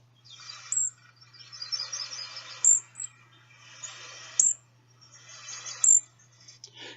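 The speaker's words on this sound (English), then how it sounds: "So here are some calls of golden crown kinglets." Golden-crowned kinglet calls: a few high, thin, sibilant bursts repeat roughly every one to two seconds in an otherwise quiet setting, with a faint low hum underneath.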